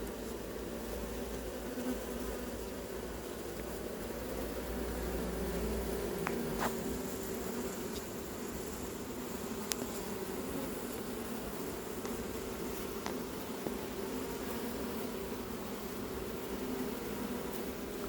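Honeybees swarm at a hive in the Crosne apiary during colony sleeping, a soft continuous buzzing drone close to the ear with a few faint clicks, no voices.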